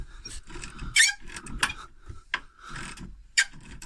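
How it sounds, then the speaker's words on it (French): Someone works a ratchet and a 16 mm wrench on a wishbone bolt of a Renault Clio 2 1.9D. Close, irregular metallic clicks and scraping rasps come in short bursts with brief pauses, and no one talks. "Une clé de plate en haut et un cliquet en dessous."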